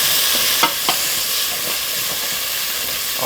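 Peas and rice get stirred in a pot: a continuous hiss of steam and sizzle, with a couple of soft scraping knocks from the spoon early on, loud and close.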